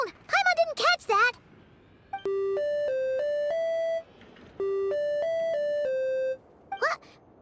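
In the video game Genshin Impact, a machine plays two bright musical tone sequences, each a run of stepped chime-like notes lasting about two seconds, with a character's voice talking before and after them.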